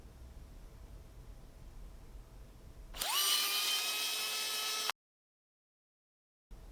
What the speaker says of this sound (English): Reach in with your screwdriver and take out the 3rd screw.